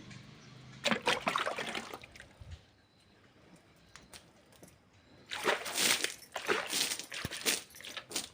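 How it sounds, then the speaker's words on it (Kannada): Water splashes and trickles in two bursts, a quieter stretch between them, with scraping and wet slapping sounds close by. "ಇವಾಗೆಲ್ಲ ನೀರು ಹಾಕಿದ್ದೀನಿ"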